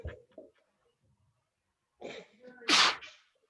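A person gives a single loud, sharp sneeze indoors during a class. It follows a couple of quieter breathy throat sounds and a pause, and it stands alone with no talking over it.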